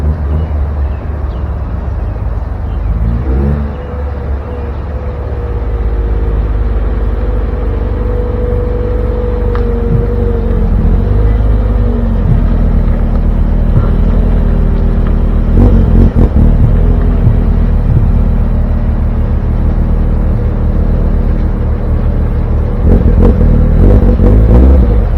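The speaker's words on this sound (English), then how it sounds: "a parking spot just opened up, so might as well bring the Miata back here" A Mazda Miata rumbles at low speed as it is driven into a parking spot, its loud engine drone steady throughout with slight throttle changes and a brief clunk, no voices.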